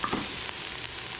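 Aromatics fry in oil in a wok over medium-high heat, a close, lively sizzle with crackles and stirring scrapes running through the brief moment, with no voices.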